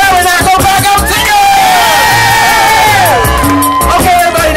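A sold-out festival crowd of 15,000 cheers and whoops loudly and steadily, a dense roar of voices that swells through the whole stretch with music playing along underneath.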